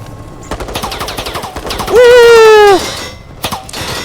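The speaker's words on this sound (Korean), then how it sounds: "총좀 그만 쏴!" Rapid gunfire in the online horror game Resident Evil: Resistance, a quick rattling burst that gives way to a loud sustained tonal effect, with more sharp shots after it.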